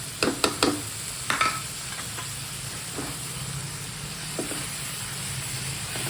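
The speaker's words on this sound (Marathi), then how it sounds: "छान परतून घेऊया डाळीला" Chana dal tossed with onion, garlic and spice masala in a pan for a dhemas curry, giving a soft steady sizzle with a few brief scraping stirs near the start.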